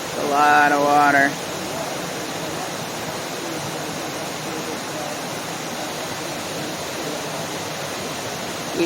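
Rushing high river water near its banks, a loud steady broadband roar running through the whole stretch, with a person speaking briefly over it at the start.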